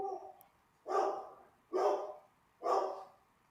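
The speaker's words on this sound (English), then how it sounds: "The dog scared him off." A dog barks three times at a steady pace, each bark sharp and mid-distance, separated by quiet gaps, with a faint squeak at the very start.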